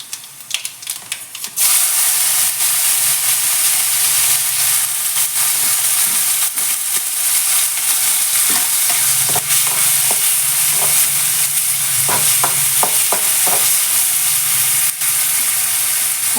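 Cumin and mustard seeds drop into hot oil for a vegetable palya and fry with a loud, steady sizzle, broken by scattered small pops and crackles.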